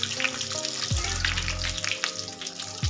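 Batata vada for vada pav frying in hot oil, with a loud, close, bubbling sizzle and brief shifts as the fritters are turned over.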